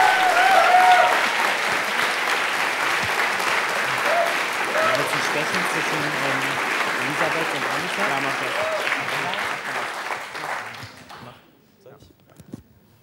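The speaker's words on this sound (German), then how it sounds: "Komm, einen Riesenapplaus für Dennis Fink, bitte." Audience at a science slam breaks into sustained loud applause for a contestant, a dense wash of clapping holding steady for about ten seconds before fading into a few scattered claps and near silence.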